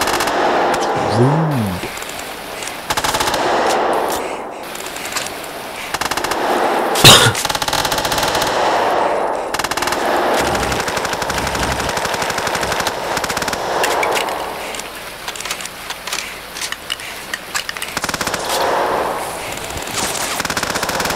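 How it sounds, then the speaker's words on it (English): Video game gunfire aimed at the player: bursts of rapid automatic shots crackle repeatedly over about twenty seconds, mixed with game effects and a brief spoken remark. "Shooting at me, and why?"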